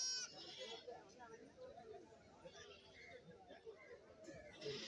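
Goats, including a young male, bleating now and then amid a busy outdoor crowd at a goat market in Kerala, with people chattering throughout at moderate level.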